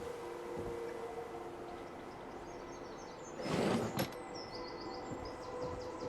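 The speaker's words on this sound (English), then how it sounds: "Nice clean door closing." Over a humming background in the video game Fallout 4, a short sliding swoosh ends in a single soft thud as a door shuts, with faint chirps afterward.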